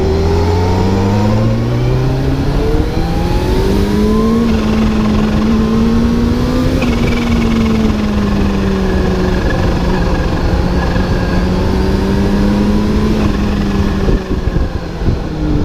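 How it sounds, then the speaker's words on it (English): A supercharged 2022 Kawasaki H2 SX motorcycle engine revs up and down loudly and continuously, rising and falling in pitch with a steady mechanical drone and wastegate chatter throughout. "The supercharger just makes some of the most insane noises you'll ever hear."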